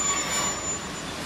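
A Kuhaya 731-series electric train pulls into platform 2 at a Japanese station, heard as a short, steady rush of rolling rail and wheel noise with no voices.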